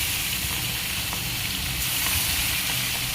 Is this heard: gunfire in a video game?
no